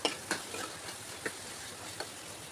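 Tomato curry for an egg dish frying in a pan, a soft steady sizzle broken by a few sharp scraping clicks as it is stirred, close and fairly quiet with no voices.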